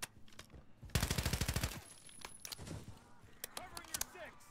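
Pistol shots in a zombie shooter game, a quick string of about a dozen sharp rapid shots followed by scattered single shots and clatter, with voices talking in between.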